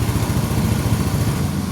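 An Adventure X motorcycle fitted with a GPS anti-theft device idles steadily, its low engine rumble constant and close with no pauses.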